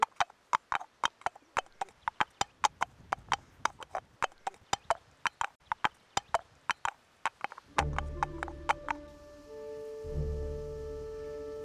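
A horse walking on a hard surface, producing a steady run of distinct, fairly close hoof clip-clops, followed near the end by a low droning tone that sustains under the last few steps.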